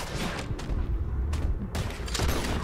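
Gunfire in the video game Red Dead Redemption 2, several loud close booming shots over about three seconds with rumbling tails and busy background action between them.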